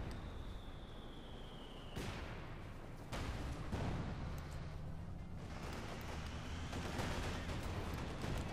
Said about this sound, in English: There's mortars though.